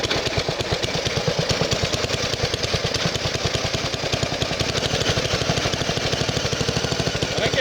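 A 1968 Bolens EK-10 Estate Keeper tractor engine idling steadily, a fast even chugging putter that stays close and loud throughout with no talk.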